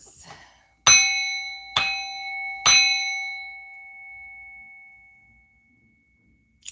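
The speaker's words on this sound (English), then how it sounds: "when I hit that bell, it's like, ah" A bell is struck three times in steady succession, each sharp, close strike ringing with bright, sustained metallic tones that overlap and slowly fade to silence.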